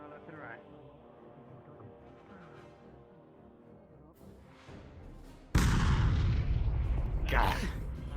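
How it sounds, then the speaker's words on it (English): Cannon fire in a medieval city siege roleplay set in VRChat: muffled distant booms rumble under talk, then a sudden loud, close blast erupts and sustained roaring bombardment continues to the end. "Cannon fire continues to rock the city"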